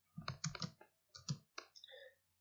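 An AutoCAD command being typed on a computer keyboard: a quick cluster of crisp key clicks, a short pause, then a few more taps ending with a final keystroke, close and fairly quiet.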